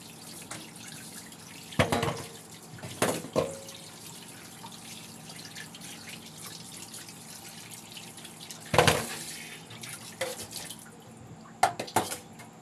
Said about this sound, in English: washing it now. Wash it thoroughly.